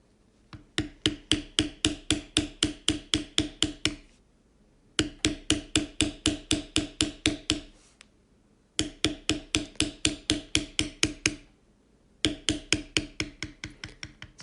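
A mallet repeatedly strikes a bevel tool against leather, beveling the lines of a Chief specialty pattern. The sharp taps come close and loud in four fast bursts of about a dozen each, with short pauses between bursts.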